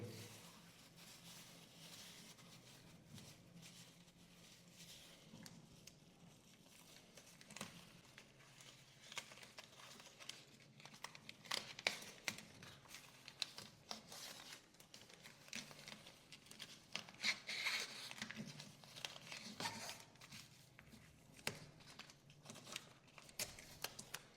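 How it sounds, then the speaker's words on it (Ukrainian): Soft crinkling and rustling of polyethylene film being wrapped around a window before renovation, with occasional sticky tearing sounds of tape, quiet and close. "А так от клійонкою намотали, скотчем зафіксували"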